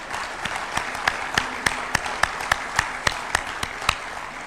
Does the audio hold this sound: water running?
no